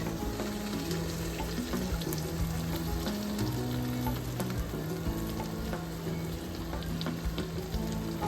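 Chicken stock poured over rice in a hot pan sizzles and fries steadily, a loud, even hiss with faint stirring and watery bubbling throughout.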